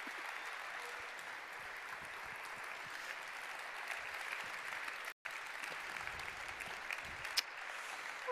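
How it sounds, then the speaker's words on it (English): A large party-conference audience applauds after a speech, a continuous, fairly distant wash of clapping that holds steady with only a brief break. "Keep applauding, it's okay."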